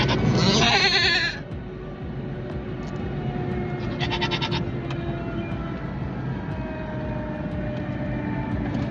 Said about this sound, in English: Goats in an SUV.